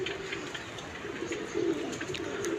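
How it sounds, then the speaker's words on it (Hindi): A pigeon marked with green colour perches on a net and coos softly, a few low repeated calls at moderate distance over faint background ambience, with no talking. "ये बैठ रहा है किसी का कबूतर, हरे रंग लगे हुए हैं।"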